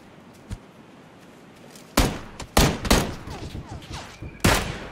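Machine gun fire in the PUBG video game comes as several sharp bursts of loud gunshots, clustered and irregular, after a faint single shot early on, with no talking during the firing.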